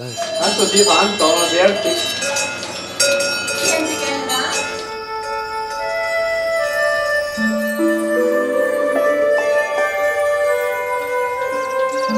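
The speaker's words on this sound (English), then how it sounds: "From the sound of their bells, I can hear which cow has turned the corner of the house and is going into the barn." Cowbells on walking cows clank and ring over one another as the cows head into an Alpine barn, then die down to a long shimmering ring with a few later metallic chimes.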